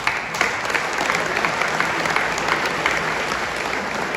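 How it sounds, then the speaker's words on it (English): A crowd gathered at an event breaks into steady, vigorous applause that holds evenly for the whole stretch, with no talking over it. "You guys deserve a clap."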